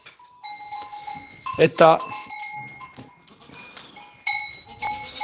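Goats bleat on a farm where a kid was born a few days ago, with several short cries near and far rising above Spanish talk and a bell-like tinkle.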